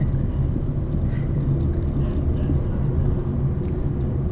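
A car cruising in third gear, its engine giving a steady low rumble that stays level and close throughout, with no speech over it.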